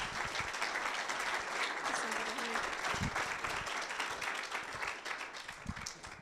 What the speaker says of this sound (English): big applause to Gecko